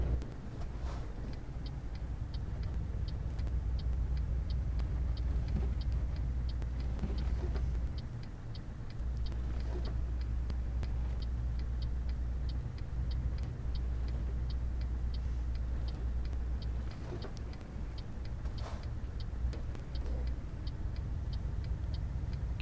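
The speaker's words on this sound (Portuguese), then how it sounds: "O caminhão tá andando pra caramba, galera." Steady low engine drone of a truck in Euro Truck Simulator 2 cruising under a light load, with a faint ticking that repeats the whole time and brief dips in the rumble.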